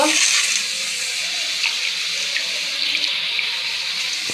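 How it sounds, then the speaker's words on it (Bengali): Rice being washed under a running tap in a home kitchen sink, a steady close splash of water pouring and swirling through the grains throughout, with no talk. "আর এদিকে আমি চাল ধুয়ে নেব"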